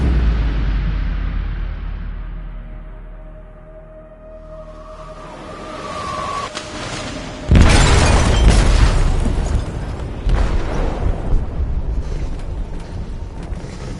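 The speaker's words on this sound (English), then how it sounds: "They detonated an explosive in the hold." An explosive detonates in a ship's hold in a video game. A low rumbling lull gives way to a sudden heavy blast at about seven and a half seconds, followed by roaring, crackling debris and a lingering rumble.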